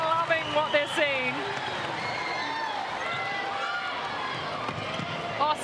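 Netball crowd in a Suncorp Super Netball arena cheering and roaring continuously in the distance, with squeaking shoes on the court and a commentator talking over it.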